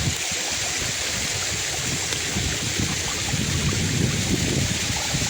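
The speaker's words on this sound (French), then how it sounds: "Petit plus aujourd'hui, cette cascade éphémère" An ephemeral waterfall at Domaine des Cascades in Bonlieu, near the Cabanes du Hérisson, where water spills out from many places. It makes a steady, close rushing wash with no talking.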